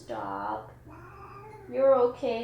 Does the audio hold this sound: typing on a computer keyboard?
no